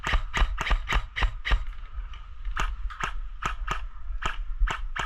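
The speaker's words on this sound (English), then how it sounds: "Dave, do you see where we're shooting?" Airsoft guns fire on an outdoor field in sharp, snappy bursts, about a dozen close cracks in quick uneven succession with a short pause in the middle, over a low rumbling background.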